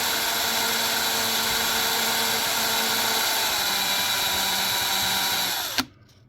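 A small metal Matchbox Mercedes truck part spinning in a drill chuck while wrapped in fine-grit sandpaper: a steady, loud, high motor whine with a rough abrasive hiss throughout, cutting off abruptly near the end.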